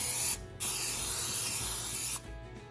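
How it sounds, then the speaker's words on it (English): Cooking spray hisses from an aerosol can into a preheated air fryer basket before chicken breasts go in, with two steady bursts of spray separated by short pauses, close and alone. "I'm just adding some cooking spray."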